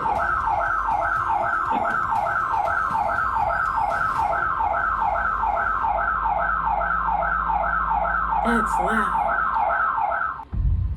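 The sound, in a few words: alarm triggered at home, doorbell camera footage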